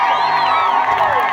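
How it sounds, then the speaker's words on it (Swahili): A church congregation ululates loudly and close, high trilling voices overlapping with cheering throughout a short burst. "Piga vigelegele katika jina la Yesu."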